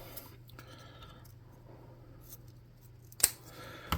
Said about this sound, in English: I'm going to cut these just in half real quick.